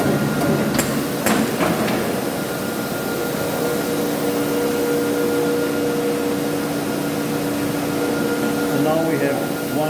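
An automated gluing and folding machine for book covers with flaps runs with a loud steady mechanical drone and faint whine, a few sharp clacks near the start, and a constant industrial hum throughout.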